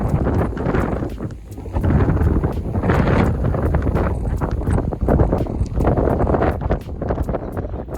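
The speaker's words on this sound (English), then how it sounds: "It's so cold and windy." Strong wind buffets and roars outdoors, gusting continuously with heavy rumbling bursts against the microphone, and no one speaking.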